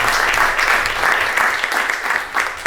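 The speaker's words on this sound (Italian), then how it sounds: "un applauso a loro che arrivano da Genova." Steady, dense applause from an audience at a live evening show at Villa Radaelli in Bussero, greeting a group from Genoa; the clapping stays loud and continuous throughout without letup.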